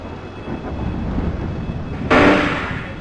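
MARC Penn Line commuter train on the Baltimore to Washington DC run, a steady loud rumble of the idling train at the platform, then an abrupt brighter hiss of air near the end as it readies to depart.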